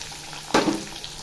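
Green chilies hit hot oil in a pan already holding browned ginger and garlic, a sudden sharp sizzle burst that flares loudly and then settles into a softer crackle.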